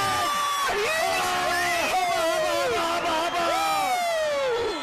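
A basketball crowd roars and whoops after a clutch three-pointer that ties the game late, a loud sustained wave of cheering and yelling, with a commentator speaking over it.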